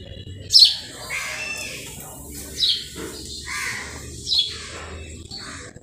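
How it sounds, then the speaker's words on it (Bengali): Crows caw outdoors on a sunny day, three distinct harsh calls spaced a couple of seconds apart, moderately near, with softer bird sounds in between. "কিন্তু তার থেকে বেশি কাকগুলো কাকা করছে।"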